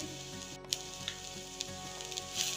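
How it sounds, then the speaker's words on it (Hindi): Chillies frying in a pan with red chilli powder, turmeric, fennel powder, salt and sugar: a soft, steady sizzle with faint scattered crackles, quiet and close, no talking. "इनको भी थोड़ी देर भून लेंगे।"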